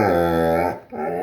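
A pet dog gives a sustained, whiny bark-growl on command in a quiet room, loud and close, briefly breaking off and then resuming, with no talk over it.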